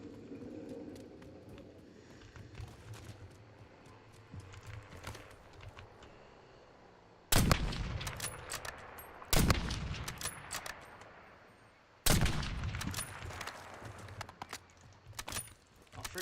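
Unsuppressed gunfire from the Call of Duty Warzone video game, set in Verdansk, comes as three loud, abrupt bursts of rapid shots, each decaying into echo, after a stretch of quieter ambient game noise.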